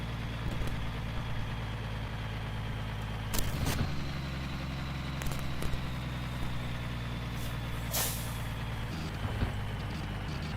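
Truck idling at a weigh station in the Hard Truck 18 Wheels of Steel video game, a low steady engine hum with a few short hissing air-brake bursts.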